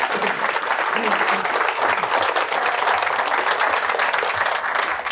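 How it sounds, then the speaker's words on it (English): A festival audience at a Business for Good event applauds Paul Hargreaves after an interview, dense sustained clapping filling the room evenly from start to finish with no pause. "A big round of applause, please,"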